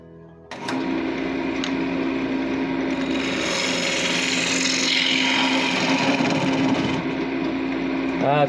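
A wood lathe turns while a tool chases threads into the spinning wood. A steady, loud motor whine and hum carries through with a rough cutting rasp, starting abruptly and continuing throughout.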